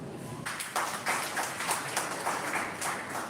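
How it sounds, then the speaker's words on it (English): Audience applause at a university global health workshop, a steady wash of many hands clapping at a moderate distance and holding level through the clip with no voices over it. "A big hand clap"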